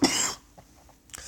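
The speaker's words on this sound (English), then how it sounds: "I have a cough." A single harsh, close cough bursts out at the start and fades within half a second, leaving near-silence with a few faint small noises and a brief soft rustle near the end.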